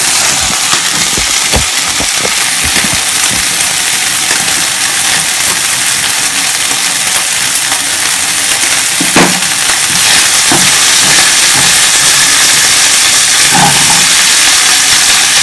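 Beef and asparagus sear in a hot skillet, giving a steady loud sizzle and hiss throughout, with a few close clinks and scrapes of utensils breaking through now and then.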